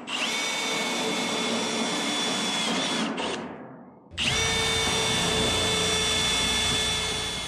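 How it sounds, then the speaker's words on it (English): Power drill pre-drilling holes in a shipping container's metal roof for a skylight vent, a loud continuous whine that winds down briefly mid-way, then spins back up and runs steadily to the end. "we'll pre-drill the holes"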